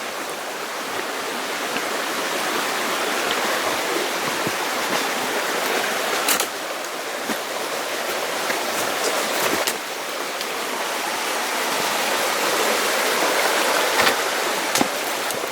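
A creek at a gold mine in the Sierras flows and burbles close by in a steady, bright rush of water, with occasional small splashes and knocks standing out.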